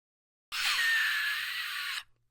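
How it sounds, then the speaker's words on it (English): A long, piercing scream from a young girl, Primrose Everdeen, waking from a nightmare in The Hunger Games film. It lasts about a second and a half, close and loud, cutting in sharply from silence and stopping just as abruptly. "That scream, though, was the sound of Primrose Everdeen waking up from her little nightmare"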